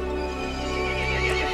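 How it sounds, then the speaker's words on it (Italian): Horse whinny in the game Resident Evil Village, a loud drawn-out neigh with trembling pitch, close and alone for about a second and a half. "Il cavallo si infuriò e convocò gli altri mostri."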